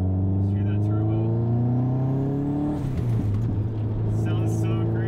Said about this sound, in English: Let's hear that turbo.